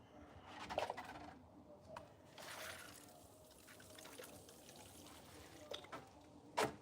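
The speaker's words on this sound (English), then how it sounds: "Let's give it a bit of water first." Water pours onto a garden bed in a short, faint trickle near the start, then soft splashes. Quiet outdoor ambience and birds fill the gap, with a louder splash at the end.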